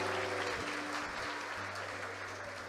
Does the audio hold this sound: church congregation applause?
yes